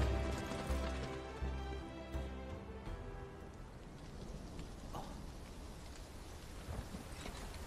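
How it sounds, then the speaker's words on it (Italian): Steady patter of light rain in the video game Final Fantasy VII Rebirth with a low rumble, broad and continuous, no voices, gentle and even throughout. "Piove piovigina"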